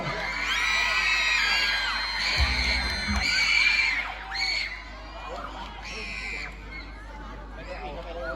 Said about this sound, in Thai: ขอเสียงปรบมือและเสียงกีดดังๆให้การแสดงหน่อยเร็ว